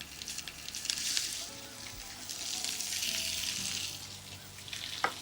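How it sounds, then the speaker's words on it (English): Cleaned, deveined shrimp sauté in olive oil in a skillet, giving a steady hissing sizzle throughout with a few faint pops and a soft clunk near the end. "Shrimps cleaned and deveined. I'm just gonna saute them."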